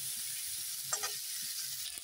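Cauliflower florets fry in oil in a pan, a steady soft sizzle running throughout with a brief scrape of stirring near the middle; no voices.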